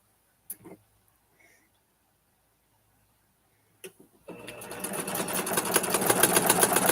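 A sewing machine stitching a vintage Christmas quilt block: a couple of faint clicks, then the motor starts and runs a fast steady rhythmic stitching that grows louder and continues to the end, no talk.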